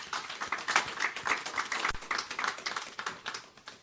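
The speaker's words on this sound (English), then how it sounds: "can we have a round of applause to yourselves and the panel?" A roundtable audience of delegates applauds the panel, a dense, continuous patter of many hands clapping, moderately distant and fairly quiet.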